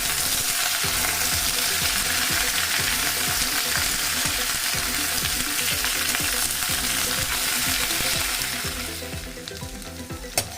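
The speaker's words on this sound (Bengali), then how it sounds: "শিম আর আলু আমি 3-4 মিনিটের মতো ভালো করে ভেজে নেব।" Broad beans and potatoes fry in a wok, a dense, steady sizzle with occasional stirring scrapes running throughout, easing slightly toward the end.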